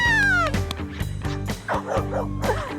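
Dock dogs at a pond jumping competition bark and yip repeatedly, with a rising whine at the start, loud and close over steady outdoor background noise.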